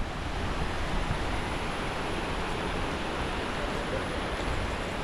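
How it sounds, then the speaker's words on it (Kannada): Kailasam waterfall in Tamil Nadu, running with low water, heard as a continuous broad rushing roar, steady and fairly loud throughout, with no voices. "ಕೈಲಾಸಂ ವಾಟರ್ ಫಾಲ್ಸ್ ಹೆಸರು."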